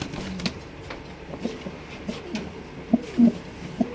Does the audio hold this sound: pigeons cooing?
yes